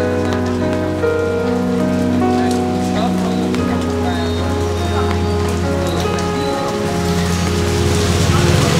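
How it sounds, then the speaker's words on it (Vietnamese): Steady rain pours down at an afternoon street-side market stall selling noodles and sticky rice, a dense hiss of drops on surfaces that persists throughout, with music playing in the background. "Trời mưa"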